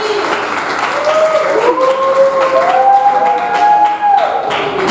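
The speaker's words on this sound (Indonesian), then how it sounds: "Tepuk tangannya dong sekali lagi." An audience applauds steadily and loudly throughout, with thick clapping and faint crowd noise, and some high sustained tones ringing over it, at the close of a student project presentation at SMK St Fransiskus in Indonesia.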